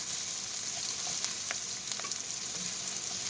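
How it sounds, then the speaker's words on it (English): Onions frying in a pan on a medium-high burner for chicken fried rice, giving a steady, close sizzle with occasional crackles and light stirring scrapes, no voices. "Just going to break these up a touch just to get all those onions nice and broke up in there."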